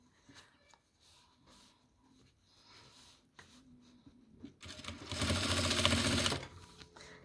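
A sewing machine stitches fabric for a toiletry bag: faint handling and rustling first, then a loud, fast, even run of stitching close by for about two seconds before it stops.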